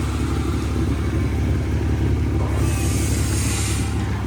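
A 1997 Lexus with a worn flex pipe idles with a steady, rough exhaust rumble, close and constant throughout with no talking.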